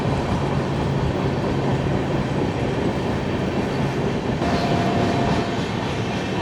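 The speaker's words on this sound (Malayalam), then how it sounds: "വാപ്പി സ്റ്റേഷൻ വഴിയുള്ള റൺ ത്രൂ ആണ്." The Gandhidham–Tirunelveli Humsafar Express runs through Vapi station with a loud, steady rumble of wheels and rail clatter, plus a brief faint squeal partway through and no speech.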